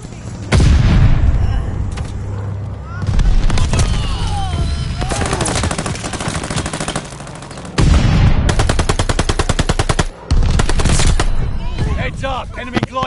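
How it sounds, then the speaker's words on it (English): In Call of Duty Vanguard zombies, an allied bombing run hits: heavy explosions and rolling booms crash in, mixed with rapid bursts of automatic gunfire. Loud and close, with brief quieter gaps and game voice callouts between blasts. "Bomb coming in hot. Allies called a bombing run."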